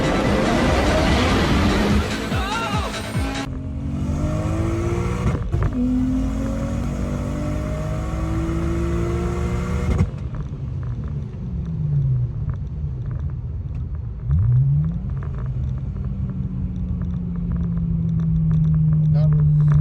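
A single-turbo BMW 335i launching at a quarter-mile drag strip, its engine roaring loud and steady with rising pitch sweeps as the wheels spin, while people talk over it.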